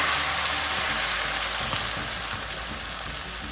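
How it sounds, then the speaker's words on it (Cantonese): Hot water poured into a pan holding a pan-fried salmon head for soup, giving a loud, continuous hissing sizzle that fills the clip and eases slightly toward the end. "咁啊落啲熱水落去"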